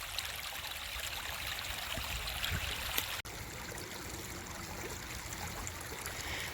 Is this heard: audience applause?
no